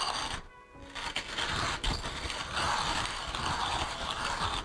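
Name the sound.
manual coffee grinder grinding espresso beans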